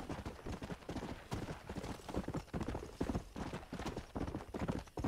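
A horse trots in Red Dead Redemption, its hooves clip-clopping in a quick, steady rhythm, close and loud throughout.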